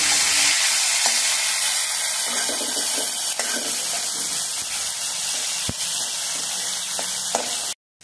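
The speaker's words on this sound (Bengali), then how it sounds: "তারপর চিংড়ি মাছটা ভাজা বসিয়ে দিলাম।" Prawns rubbed with salt and turmeric fry in white oil in a wok, giving a loud, continuous close sizzle with scattered spits and crackles that cut off abruptly at the end.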